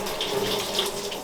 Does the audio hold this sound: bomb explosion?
no